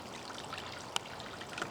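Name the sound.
garden waterfall water flowing from a hose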